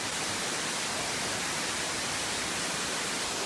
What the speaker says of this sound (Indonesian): Kami makan di tepi air terjun.